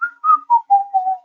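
Someone whistles the tune of a song clearly and close, a short melody of distinct notes stepping downward, with no talking.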